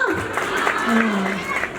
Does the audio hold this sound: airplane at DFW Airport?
no